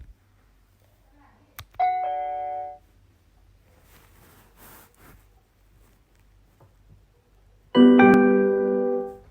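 A smart doorbell's two-tone electronic chime rings, followed by quiet rustling and then a second, louder chime sequence from a nearby Google Home speaker.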